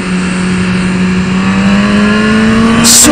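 A 2015 BMW S 1000 RR motorcycle accelerating hard in second gear, its engine note climbing steadily as it winds up the rev range. The engine is loud and close, with rushing wind noise and no other sound.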